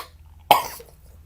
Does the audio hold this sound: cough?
yes